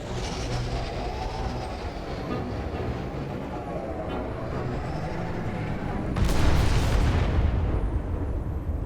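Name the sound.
explosion in the Star Trek: Resurgence video game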